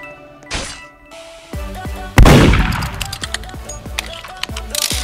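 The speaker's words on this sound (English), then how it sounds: "Well, I accidentally shot her." Gunshot in the Roblox game Murder Mystery 2, a sharp loud bang midway followed by scattered clicks and thuds of game sounds, with no talk.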